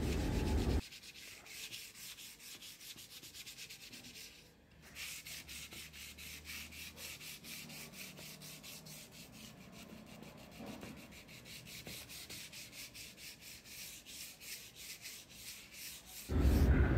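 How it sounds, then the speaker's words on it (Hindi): Wood coated with waterproof PU polish is wet-sanded by hand with 320-grit waterproof sandpaper, giving a steady, close scratchy rubbing that runs continuously for about sixteen seconds with no talking. "320 नंबर का वाटरप्रूफ रेगमाल लगाना है इसके ऊपर।"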